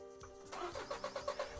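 A car engine cranks and catches in the Kemo Siro game, a quick series of rhythmic pulses heard up close without any talk.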